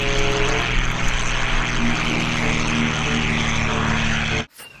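Loud, steady propeller-plane engine drone with a buzzing hum from the video game Jurassic World Evolution 2, continuous for several seconds before cutting off abruptly.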